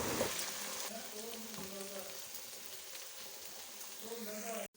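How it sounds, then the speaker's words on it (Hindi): Okra (lady finger) frying in a pan hisses and sizzles steadily, a soft continuous crackle like light rain, with faint speech in the background. "अब हम इसे 10 से 15 मिनट फ्राई करेंगे, जब तक अच्छा सा गोल्डन कलर नहीं आ जाता।"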